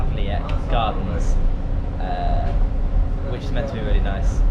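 Tram interior during a ride in Prague, with a steady low rumble of the moving car running throughout and people talking over it.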